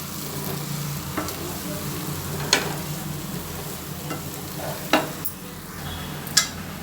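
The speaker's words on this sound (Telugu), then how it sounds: "కారం వేసుకోవాలి వేసుకున్న తర్వాత కలుపుకోవాలి లైట్గా" Chili powder being stirred into mutton and fenugreek curry in a pan, with a steady soft sizzle under occasional sharp scrapes and clinks of a spoon against the pot, close and alone with no talking.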